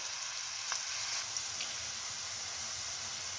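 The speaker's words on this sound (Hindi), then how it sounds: "प्याज जो है ना हमारे फ्राई हो रहे हैं" Onions frying in oil until golden brown for beef pasanday, a steady close sizzle with a continuous bright hiss and a few soft stirring clicks, no talking.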